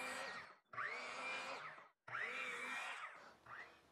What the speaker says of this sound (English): Then it's over to the miter saw.